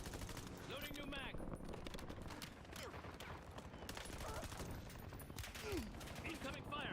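Gunfire from the Warzone video game crackles in rapid bursts and scattered shots, fairly faint under a dense mix of game sounds and spoken voice lines throughout.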